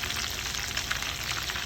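Marinated chicken drumsticks frying in hot oil in a pan in a home kitchen, giving a steady, even crackling sizzle throughout, fairly quiet and with no voices.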